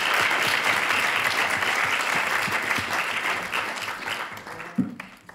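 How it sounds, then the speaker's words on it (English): An audience applauds to welcome a lecturer at a university talk, sustained clapping fading gradually before a short knock near the end. "please give a round of applause to Professor Long."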